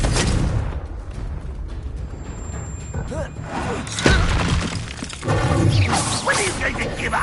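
A Confringo blasting spell explodes in Hogwarts Legacy, a dull booming blast breaking through a busy mix of spell effects and clatter, with character voices talking around it.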